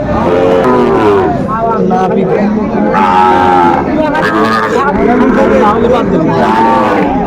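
Sahiwal bulls and other cattle low and moo loudly and repeatedly over a busy, noisy crowd of people talking at a livestock market in Cumilla, Bangladesh.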